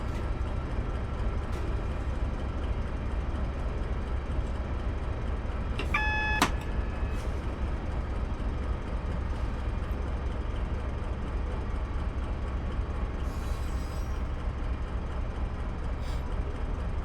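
A British Rail Class 70 diesel freight locomotive in Train Simulator on the South Wales Coast route gives a steady low engine drone and rolling rumble, with a brief horn blast partway through and no talk.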